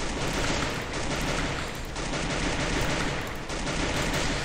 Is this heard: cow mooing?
no